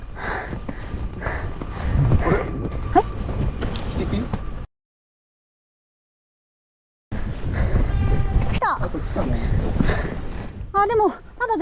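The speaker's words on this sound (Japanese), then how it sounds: "あ、でもまだ電車はあっちにいるね。" Train rolling past on a mountain line deep in the hills, a steady rumble with a horn blast near the end, heard under a woman's chatter and footsteps and interrupted by a brief gap of silence.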